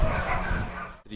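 A small dog yips and barks in short, close bursts at home among other dogs, then cuts off abruptly near the end.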